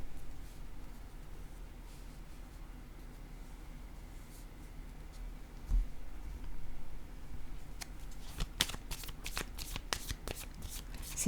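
Tarot cards are shuffled and laid down during a reading: soft rustling and handling at first, then a run of sharp, quick riffling snaps near the end, close and fairly quiet.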